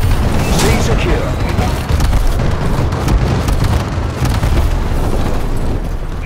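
Bombing-run explosions in Call of Duty: Advanced Warfare, a steady barrage of loud, rumbling booms and blasts with dense battle noise throughout. Game announcer voices speak over the blasts.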